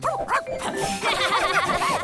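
A cartoon dog barks in a quick run of bright, bouncy yelps and yips, several short calls tumbling one after another at close range with no pauses between them.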